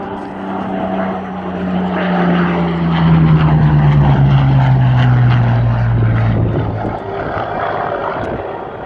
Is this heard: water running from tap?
no